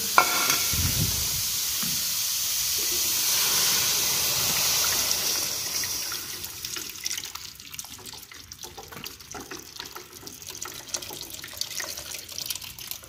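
Tomatoes and chilies frying in a kadhai with garlic and onions, a loud steady sizzle and hiss that fades toward the end, with stirring scrapes and no talk.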